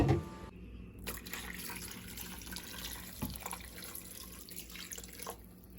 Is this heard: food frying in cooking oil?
no